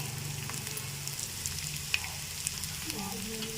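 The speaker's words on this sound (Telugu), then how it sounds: "ఇదిగోండి ఆవాలు వేస్తున్నాను" Mustard seeds sizzling in hot oil with garlic and lentils, a continuous close frying hiss with a few faint pops and light clinks.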